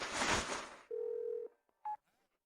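A telephone being dialed: a burst of rustling noise, then a sustained keypad tone and a second short beep, close and clear, with no voices.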